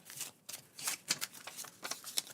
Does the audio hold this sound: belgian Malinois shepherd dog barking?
no